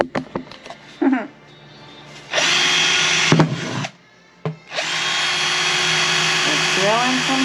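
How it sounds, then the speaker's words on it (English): Handheld power drill boring holes, whirring in two long sustained runs with a brief stop between, preceded by short bursts and handling knocks; a voice speaks briefly near the start and end. "drilling some holes."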